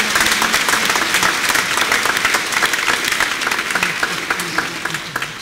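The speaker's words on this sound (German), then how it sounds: "Also wir wollen für Sie Hände klatschen, weil Sie spät gekommen sind." Sustained applause from a large audience at a church gathering, dense and steady hand clapping filling the whole stretch without any voices.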